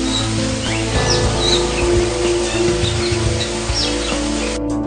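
Birds call and chirp repeatedly at Bali Bird Park, short bright tweets scattered over a steady background hum, fairly close and clear.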